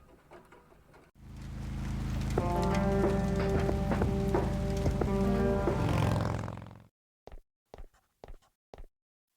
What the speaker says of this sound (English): There's nothing quite like the soothing sound of rain falling on a window.